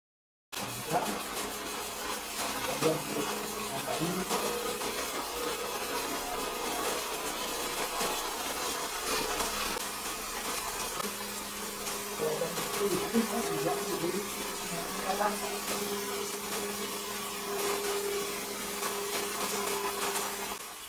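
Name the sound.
blender running while mixing sauce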